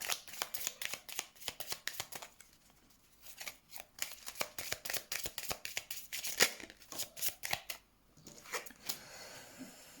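Tarot cards being shuffled by hand before a reading, a close, crisp run of rapid riffling bursts with short pauses between them, alone without talk.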